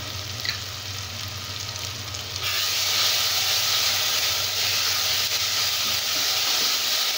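Chilli powder, coriander powder, garam masala and turmeric fry with tomato in a pan for mushroom kurma, a steady sizzle that jumps suddenly louder and hissier partway through and stays strong, with no talking.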